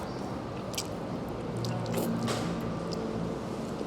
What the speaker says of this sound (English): Let's try it with some noodles while I still have some clam in my mouth.